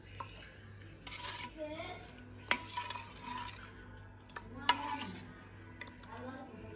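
A spoon stirs and scrapes food in a metal pot while cooking a tilapia fish dish, giving irregular clinks and rubbing scrapes with soft sizzling, close up and moderately loud, as a person talks intermittently.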